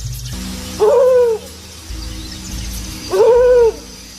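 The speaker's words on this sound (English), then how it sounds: "For days, Solo calls for a missing family." An African wild dog gives two separate, clear rising-and-falling calls, each about half a second long, sounding close and loud over a low background rumble as it calls for its missing pack.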